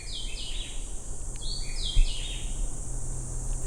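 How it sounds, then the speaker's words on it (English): Several birds sing and chirp in overlapping high, sweeping phrases over a steady outdoor hush on a forest trail in Parque Natural Metropolitano, Panama, with one soft thump partway through. "Listen to those birds."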